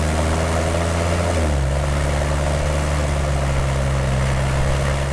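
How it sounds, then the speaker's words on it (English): A 2015-2017 Ford F-150 with the 3.5L EcoBoost and a Magnaflow Pro Series straight-through cat-back exhaust rumbles with a deep, steady tone, dropping slightly in pitch early on and then holding a loud, even drone without talk. "The big factor shaping the sound here with the Magnaflow system is the straight through design Pro Series muffler"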